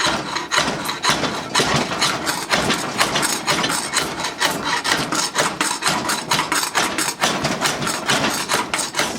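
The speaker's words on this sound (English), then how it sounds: "it's more of wedging underneath and pulling the grain rather than cutting it out" Draw knife wedging under and peeling grain off an Osage orange bow stave, giving a dense run of scraping, shaving strokes with repeated close rhythmic knocks, loud and continuous with no talking.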